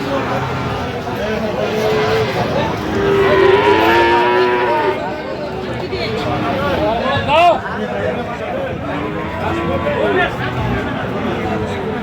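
A Friesian bull calf moos at a busy cattle market in Aftabganj, Dinajpur, its drawn-out calls rising over a steady hubbub of crowd chatter and nearby voices.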